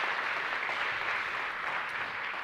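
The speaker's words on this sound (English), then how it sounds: "Please, a warm round of applause as well for the Deputy Governor of the Bank of Botswana." A conference audience applauding a speaker at a financial markets event, dense and steady clapping with a full, even texture that carries through the whole moment without voices.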